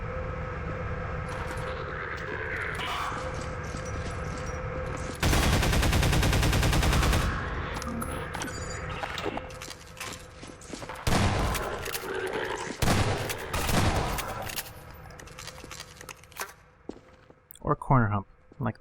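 Gunfire in the Half-Life 2: Episode Two mod Exit 2 comes in loud rapid automatic bursts and single shots, with heavy blasts and clatter in between and a voice speaking at times.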